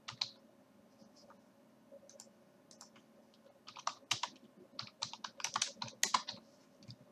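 Keys clatter on a computer keyboard as an email address is entered to send a Word 2016 document, the soft taps sparse at first and then faster and denser in close, quiet bursts.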